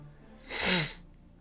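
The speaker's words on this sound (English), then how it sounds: "I still have the sniffles." A single short, breathy nasal sniffle, close up, rising and fading within about half a second.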